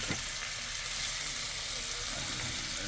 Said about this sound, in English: Gotta let the steak cook with the onions on it